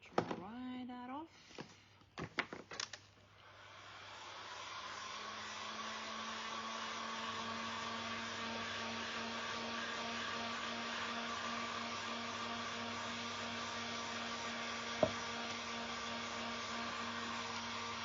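Hair dryer blowing steadily while drying a freshly painted thrifted urn, starting after a few seconds of clatter and handling noise and running loud and continuous to the end, with a brief sharp click near the close.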